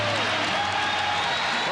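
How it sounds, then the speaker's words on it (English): A basketball crowd at the United Center gives a standing ovation during the 1996 NBA Finals between the Sonics and Bulls, a dense, steady roar of applause and cheering under a commentator's voice. "Standing ovation"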